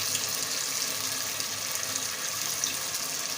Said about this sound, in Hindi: अब इसमें 2 गिलास यखनी डालनी है।